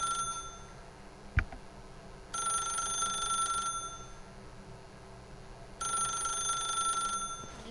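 Electronic telephone ringing in The Stanley Parable video game, two sustained ring bursts about three seconds apart, set against a quiet room hum with a single sharp click between them.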